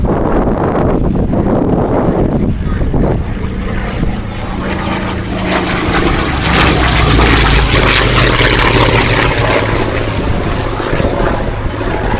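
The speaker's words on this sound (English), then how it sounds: "or he's doing engine runs, I believe." A Yakovlev Yak-11 with a newly fitted engine runs up on the ground at the Little Gransden Air and Car Show, a loud, steady piston-and-propeller roar that swells midway, with gusts of wind buffeting the microphone.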